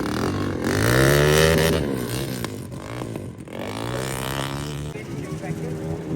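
Rally cars pulling away at a rally event, engines revving and droning steadily at close range, rising and falling as they leave, with someone talking throughout over the noise.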